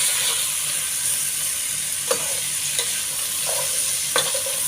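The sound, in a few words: stir-frying bitter gourd (ampalaya) with onions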